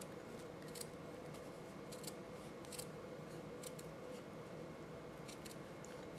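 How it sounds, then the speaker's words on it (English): Scissors cut a spiral out of a felt circle, a faint steady soft snipping and rustle with occasional sharper crisp clicks, quiet and close with no voices. "Then what you're going to do is you're going to cut a spiral out of that circle."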